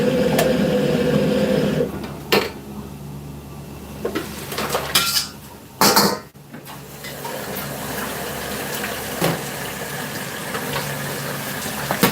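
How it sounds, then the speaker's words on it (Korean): Jjamppong noodle soup with whole squid and mussels being stir-fried in a hot pan. A steady, loud sizzling hiss runs throughout, broken by several sharp metal clanks and scrapes of utensils against the pan, with no talking. "저희 짬뽕 볶는 걸 한번 보여드리겠습니다"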